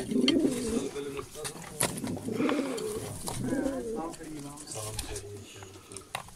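Pair of golden pigeons, a male and female kept together, cooing with soft repeated low calls, close by, throughout the short stretch, with a voice talking over them.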